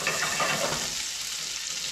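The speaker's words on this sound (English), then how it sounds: "now we're gonna add our oil to the pan for our shrimp and our black pepper butter" Shrimp sizzle loudly in a pan of hot oil with black pepper butter, a steady, close, dense frying hiss that stays even throughout, with no talking.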